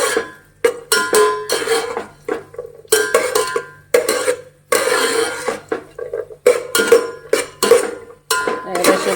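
Cashew nuts are stirred in a pan until browned, giving repeated clinking and scraping strokes of metal on metal. The bursts are close and fairly loud and come in an uneven rhythm, with no talk.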